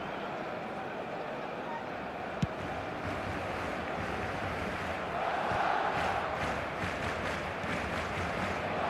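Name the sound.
crowd applauding in eFootball video game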